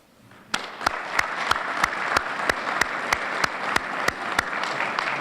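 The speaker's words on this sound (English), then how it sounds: "you need to give yourselves a round of applause" Audience applause at a university athletics hall of fame ceremony: a sustained bed of crowd clapping punctuated by one sharp, close, evenly spaced clap repeating about three times a second.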